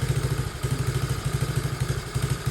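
A small motorcycle engine idles alone, a loud, close, steady low-pitched chugging with an even pulsing rhythm that runs without interruption.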